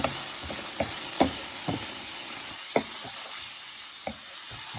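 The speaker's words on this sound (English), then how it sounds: "I'm going to throw one in so I can start frying that up." A tortilla fries in a hot pan with a soft, steady sizzle, broken by several sharp taps and scrapes of a utensil against the pan, close and fairly quiet.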